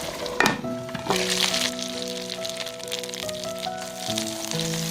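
Steady sizzling and crackling of a crab meat patty frying in a hot pan, close by, with soft music playing over it throughout.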